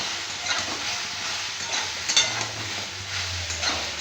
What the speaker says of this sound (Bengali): ভালো করে নাড়াচাড়া হয়ে মশলাটা ভাজা ভাজা হয়ে গেলে